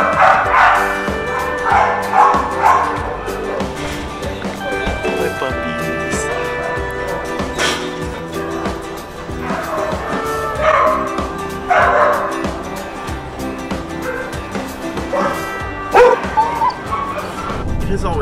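Dogs at an animal pound barking, yipping and whimpering in a busy, continuous chorus, with loud bursts rising and falling over a steady background of kennel noise, some voices nearby.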